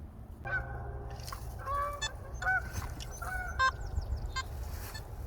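Nasal, honk-like metal detector tones that mimic geese ring out in a quick irregular run of short calls during colonial-era mudlarking, heard fairly faintly over steady low background noise.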